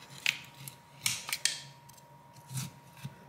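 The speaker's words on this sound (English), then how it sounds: "I don't want to jam the pry tool in there too far to begin with" Plastic pry tool working under the ceramic back cover of a Samsung Galaxy S21 Ultra, giving a few close, sharp scraping clicks and creaks spaced across a quiet moment.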